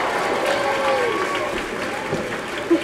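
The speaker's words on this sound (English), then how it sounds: "Our mascot, give him a big hand." A crowd at a university opening ceremony claps and cheers for the school mascot, a diffuse roar of hands and voices with a whoop rising over it, moderately loud and continuous.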